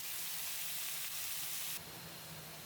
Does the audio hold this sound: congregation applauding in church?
no